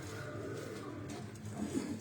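Cheene breeder pigeons coo softly under a steady background hum, with faint low calls rising slightly near the end.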